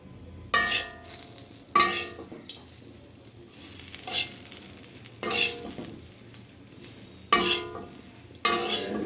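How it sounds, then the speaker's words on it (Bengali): Fried potatoes stirred into sizzling masala in a pan for a vegetarian paneer curry: a spatula scrapes through in about seven regular strokes over a constant, close frying hiss. "মশলার সাথে আলুগুলোকে ভালো করে মিশিয়ে নিচ্ছি"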